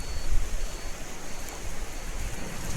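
A steady, broad rush of fast-flowing floodwater from the Banas River running bank to bank roars evenly throughout, with no voices.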